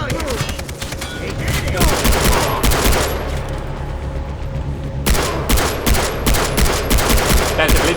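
Sustained gunfire shootout on a boat in Far Cry 3, with dense rapid bursts of automatic fire and overlapping shots running loud and continuous over engine and water noise throughout.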